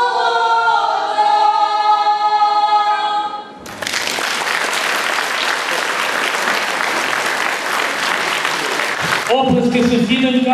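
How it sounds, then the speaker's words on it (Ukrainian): Loud audience applause with crowd noise at a concert evening fills most of the clip, preceded by the tail of a sung Ukrainian folk melody and followed by brief music. "Оплески сусідонькам, вони ще будуть на цій сцені."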